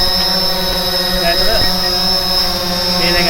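Small camera drone with its motors spinning up, a steady high-pitched whine with bright tonal hum held throughout at close range, faint talk underneath.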